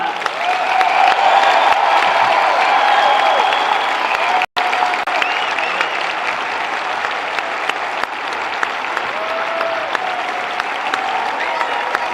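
Sustained applause from a large crowd filling a big indoor gym at a high school girls volleyball championship game, steady and loud throughout with scattered cheers rising above the clapping.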